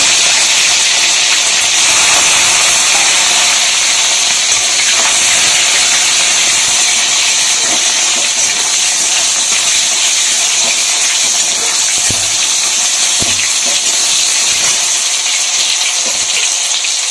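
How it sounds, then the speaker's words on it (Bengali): Tomatoes drop into hot oil tempered with cloves, cinnamon and cumin and sizzle loudly and steadily, close up. A dense, continuous hiss runs throughout with faint clinks underneath and no talk. "ফোড়ন দিয়ে এর মধ্যে টমেটো গুলোকে ছেড়ে দেব।"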